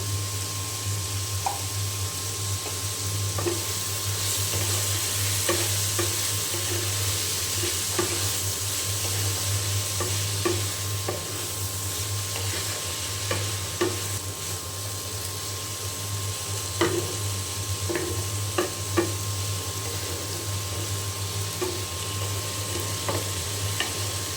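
Potatoes fry with turmeric in a pan, giving a continuous sizzle with scattered clicks and scrapes of stirring at close range.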